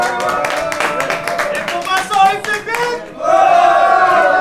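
An audience at a rap battle event claps loudly in a dense, rapid burst that thins briefly, then shifts into cheering and shouting voices near the end.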